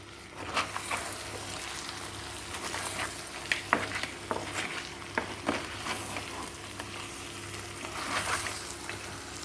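Crabs cooking in a pan for an Andhra-style crab curry, a steady close sizzle and bubbling simmer broken by occasional scrapes and clinks of stirring.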